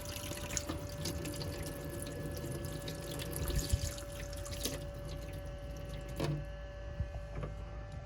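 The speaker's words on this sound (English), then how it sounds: "And I've just turned this tap on over there." Hot water runs from a tap in a motorhome, a steady faint splashing with occasional clicks and drips.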